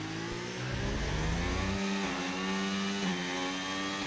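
A Red Bull Formula race car engine on a qualifying lap at Baku, screaming at high revs with rising and falling pitch through gear changes, loud and steady with no talking.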